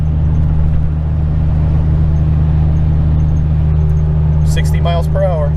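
A Ford E350 V10 engine drones steadily with a low, constant hum while climbing a mountain grade at about 1800 RPM, with a voice talking faintly over it near the end.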